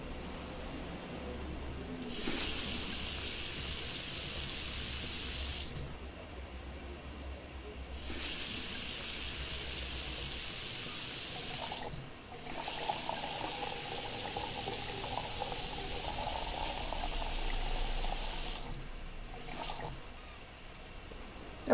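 Two liters of water running from a tap into a measuring container, a steady hissing rush that starts and stops in several long bursts, fairly faint with no talk.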